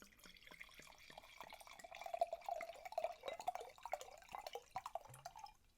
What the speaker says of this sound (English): That is a hefty pour.